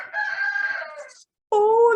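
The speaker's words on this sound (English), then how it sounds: "Oh, that was like perfectly cued with the rooster." A rooster crows twice inside an animal barn, loud and close, the first long call trailing off before a short silence and a second sharp crow.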